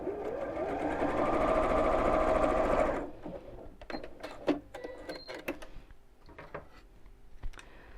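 A sewing machine fitted with a standard presser foot runs in a steady, fast stitching burst for about three seconds, then stops, followed by scattered light clicks and taps.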